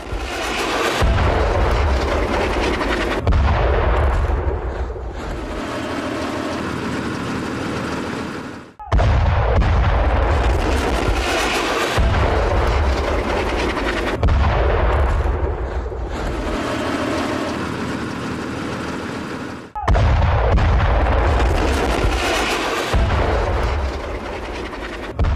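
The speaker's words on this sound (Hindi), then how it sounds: "हमास के हथियार भंडार को किस तरीके से बम से उड़ा दिया गया" Bombs blowing up a Hamas weapons depot in Gaza: loud, heavy blasts recur about every five to six seconds, each a deep boom followed by rumbling debris and roar.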